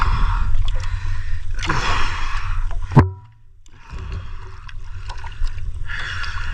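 Water sounds from a small boat on open water, with wind and low rumbling throughout and a sharp splash or knock midway before a brief lull, during a diving trip.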